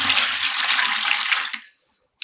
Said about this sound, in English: And I'm adding in water.